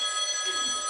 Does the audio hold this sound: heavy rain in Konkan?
no